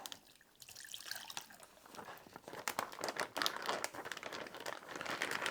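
Packaging crinkles and tears at close range, a busy run of crackling rustles growing louder over several seconds, heard alone during syrup making with blueberries.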